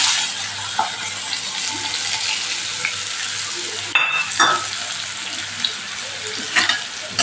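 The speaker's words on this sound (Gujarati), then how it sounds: "ડુંગળીને સરસ સાતળી લેવાની" Chopped onions sauté in hot oil with cumin and asafoetida, a close continuous sizzle broken by scraping stirs and a sharp clatter partway through, without speech.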